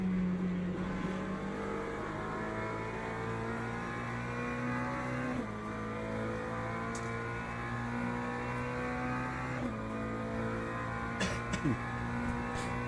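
A Ferrari race car engine in a racing video game drones steadily at high revs in the wet, with brief pitch dips at gear shifts and a constant close tone throughout.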